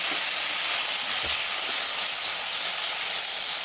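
Tomatoes added to hot oil with five-spice seeds and a split chili, a steady loud hiss of sizzling that holds evenly throughout, close and without talk.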